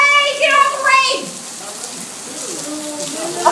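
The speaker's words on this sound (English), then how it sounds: "Got a shot of the rain, like, on the lake." Rain falling on a lake, a soft steady hiss running beneath voices that chatter near the start and again at the close.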